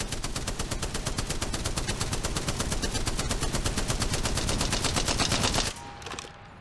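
An automatic rifle in Apex Legends fires a full magazine in one long, unbroken stream of rapid, evenly spaced shots. The fire is loud and close, then cuts off abruptly, leaving a brief fading tail.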